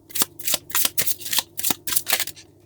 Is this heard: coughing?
no